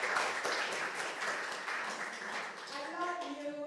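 A church audience gives a guest speaker a dense, continuous round of applause that fades slightly before a voice comes in near the end.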